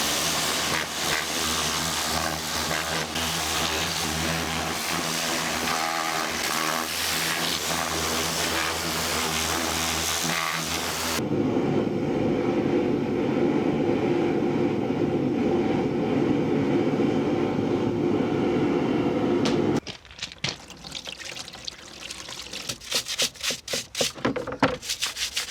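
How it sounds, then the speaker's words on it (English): A Land Rover Series steering box is pressure-washed outdoors: a loud, steady hissing spray runs continuously, shifts in tone partway through, then breaks into choppy bursts near the end. "I'm going to take this outside and jet wash it"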